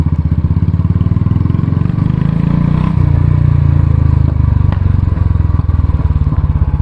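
A 2019 Royal Enfield Classic 350 motorcycle idles with a steady, loud, thumping single-cylinder exhaust beat that swells slightly in the middle, heard up close with no talking.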